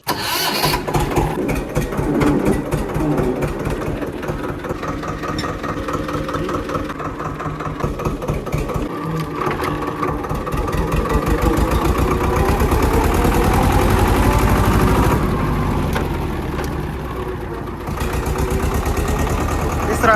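A tractor engine turns over and runs at a chugging idle with some revving. The sound is close, mechanical and continuous, and someone talks over it now and then.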